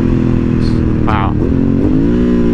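A Ducati Monster S2R 800 motorcycle is downshifted with rev-matching throttle blips, its engine humming close and loud with short pitch jumps as the gears change. A voice speaks over it.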